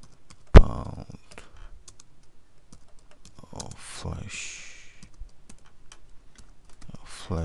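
Sparse keystrokes clatter on a computer keyboard during a book cover design tutorial, one sharp loud tap followed by scattered lighter clicks, with a voice talking over parts of it.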